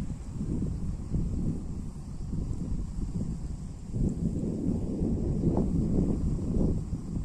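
Strong wind on a slope blows continuously, producing a low, gusting rumble against the microphone with brief surges of buffeting.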